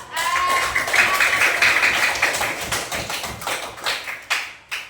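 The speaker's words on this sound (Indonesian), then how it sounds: "beri tepuk tangan dulu" A classroom of children claps together in a dense, busy burst of small hands that starts right away, stays steady, then thins into a few scattered final claps near the end.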